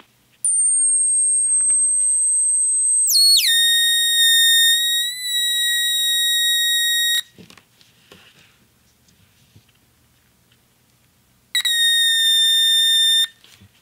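Steady electronic tone from a tone generator played through a factory car tweeter, a high sustained pitch that steps down into a buzzy harmonic-rich tone, cuts off, then returns briefly after a pause of near silence.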